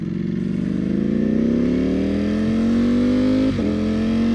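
A 2018 Ducati Panigale V4R with a dry clutch idles and revs loudly and close, its engine tone rising steadily with a dry mechanical rattle, one brief dip near the end, and no talk.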